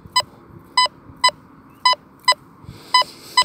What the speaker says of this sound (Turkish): Yakın metal ses tonu vuruşu bu.